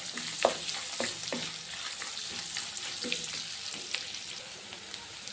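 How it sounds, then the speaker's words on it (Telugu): Chopped onions sizzle steadily in a pan as turmeric is stirred in, with a continuous bright crackle broken by occasional clicks and scrapes of the spoon against the pan. "కొంచెం ఫ్రై అవ్వాలి ఆనియన్స్. ఇప్పుడు ఇందులోనే కొద్దిగా పసుపు బాగా మిక్స్ చేసుకుందాం ఒకసారి."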